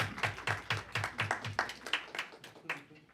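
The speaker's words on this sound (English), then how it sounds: "You've been applauded twice." Scattered applause fills a committee hearing room during a Texas House Elections Committee session, about a dozen quick, evenly spaced hand claps at moderate distance that thin out and fade toward the end.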